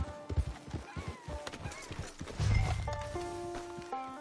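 A horse in Red Dead Redemption 2 clip-clops along with hoof beats, then gives a whinny, heard close amid outdoor game ambience.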